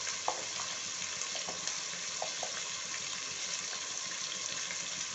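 Spices fry in oil in a pan for Mughlai pulao, a steady, faint, broadband sizzle with occasional small pops and clicks throughout, with no voices.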